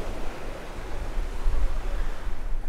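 Sea waves washing onto a beach in Dubai, a steady broadband wash with low rumbling surges and no clear separate breakers, close and fairly loud with no talking.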